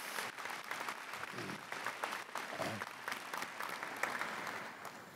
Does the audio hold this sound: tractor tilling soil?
no